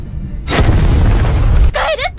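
A loud, booming explosion from an exploding arrow in an anime fight scene bursts in abruptly and sustains a heavy rumble, followed by a brief whooshing effect at the end.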